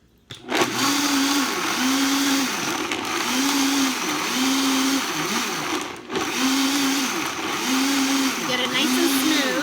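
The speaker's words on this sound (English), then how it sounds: "something's wrong with my blender, so I have to keep pressing it down. That's why it sounds like that." Faulty blender reblends a thick raw vegan chocolate mix with protein powder, loud steady motor whir cycling in a repeating pulsing rhythm as it strains, with speech over it.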